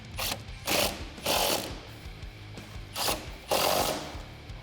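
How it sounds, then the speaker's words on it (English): A hand ratchet with a 13mm deep socket and 3-inch extension tightens pinch seam bolts on a Jeep Wrangler JL 4-door running board, giving five loud, close bursts of rapid ratcheting clicks with short pauses between them. "what we can do first is tighten up our pinch seam bolts. I'm using a 13mm deep socket"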